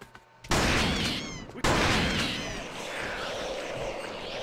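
Close gunfire in The Thing game: a sharp burst opens, then a second sustained volley follows that rattles on loudly before fading into a noisy tail.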